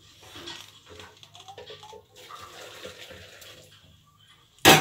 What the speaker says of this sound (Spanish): Le ponemos la mitad del agua con la que la herví